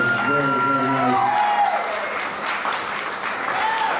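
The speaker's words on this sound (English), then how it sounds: "Sarah and Dakota, can we give them a nice round of applause?" Guests at a wedding reception give the couple a warm round of applause that fills the room steadily throughout, with a voice speaking over the clapping at the start.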